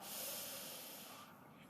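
A yoga instructor draws one long, audible inhale through the nose during an at-home beginner flow; the close, airy breath is steady and fades out near the end without any speech.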